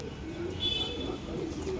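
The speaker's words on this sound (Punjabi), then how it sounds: "ਲਾਲ ਚੀਨਾ ਕਬੂਤਰ ਹੈ ਵੀਰੇ" A red china pigeon coos softly in a short, faint burst against a quiet background hum, with no talking over it.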